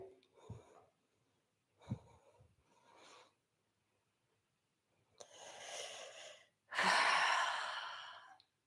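Slow, audible breaths during a live power yoga flow, several soft inhale and exhale bursts separated by quiet gaps, ending in two longer, louder exhales close to the microphone.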